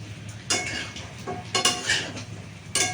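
Pots and utensils clatter in short bursts while chilli chicken cooks in a home kitchen, several sharp clinks and scrapes over a low steady hiss, with no talking.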